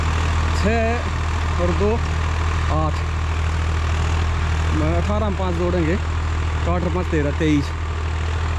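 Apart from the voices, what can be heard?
Swaraj 855 FE tractor engine running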